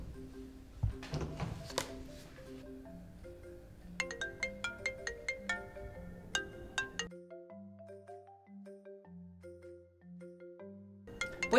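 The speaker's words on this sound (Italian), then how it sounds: "Puoi spegnere il cellulare?" A mobile phone ringtone plays in a classroom, a bright, steady melodic tune of repeating electronic notes that changes pattern partway through, loud and close, with a thump or bump at the start and end.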